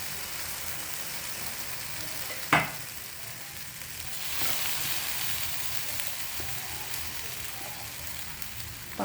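Bread slices dipped in a beaten mixture of milk, egg and sugar fry in a pan with a steady crackling sizzle, broken by one sharp clatter and a few faint taps, with no talking.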